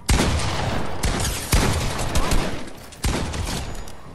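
Gunfire in an online shooter video game: loud, dense bursts of shots that hit hard at several points and keep up as steady rapid fire between them.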